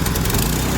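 A cold petrol engine on a bin cleaning machine running right after a pull-start, a loud, close, steady mower-like buzz that holds for under a second.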